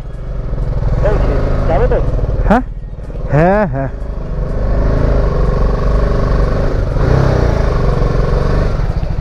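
A motorcycle rides into a homestay near Kurseong in the hills of North Bengal, its engine running steadily close by throughout. A person speaks briefly over the engine noise.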